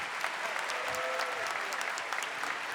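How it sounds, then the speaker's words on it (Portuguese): A congregation at a Catholic Mass breaks into steady, dense applause that fills the church evenly throughout, with a faint voice briefly audible beneath the clapping. "Dê uma salva de palmas bem forte a nosso Senhor."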